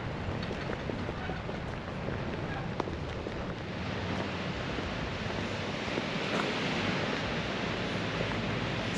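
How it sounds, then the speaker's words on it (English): Waves wash steadily onto the beach at the Aston Costa Verde Hotel, a continuous soft roar of surf with no distinct breaks and no voices. "So now we'll take a walk down to the beach."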